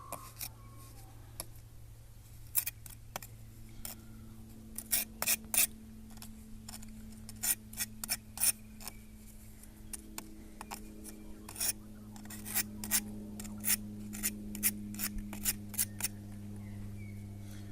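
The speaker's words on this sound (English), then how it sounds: "I'm just removing the excess sand" A hand tool scrapes and rasps excess sand off the brickwork of a cob oven in short, irregular strokes, fairly faint and close, with a low steady hum in the background and no talk.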